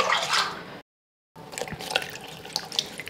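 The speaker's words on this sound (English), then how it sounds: "And then add the water." Water poured into a blender over torn one-inch pieces of paper for papermaking, a close splashing and trickling that runs in two bursts separated by a brief gap, without talk.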